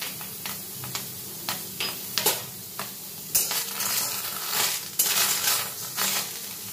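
Chopped tomatoes hit a hot pan for a paneer and potato curry, sizzling steadily while a spoon scrapes and clicks against the pan in sharp, repeated strokes, close and clear.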